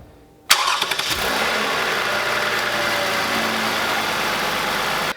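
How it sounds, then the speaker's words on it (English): A Lexus ES 350 engine cranks and fires after a moment of quiet during an oil change, a sharp catch followed by a steady, even idle that holds close and loud to the end. "So let's start the engine."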